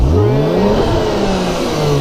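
1994 Toyota Mark 2 Tourer V JZX90 with a big exhaust revving loudly and close, the engine note climbing then holding a strong, steady roar throughout.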